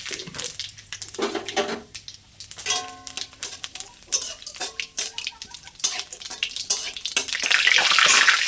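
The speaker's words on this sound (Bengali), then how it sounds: "এই যে তেজপাতা আর হচ্ছে জিরে আর শুকনো লঙ্কা তো ফোড়নে দিলাম" Bay leaf, cumin seeds and dried red chillies hit hot oil for a tempering, a spitting sizzle that swells to a loud steady hiss, with clinking utensil knocks and scraping stirs in a home kitchen.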